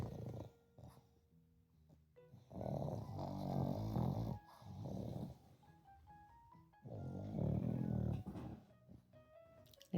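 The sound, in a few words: pug dog snoring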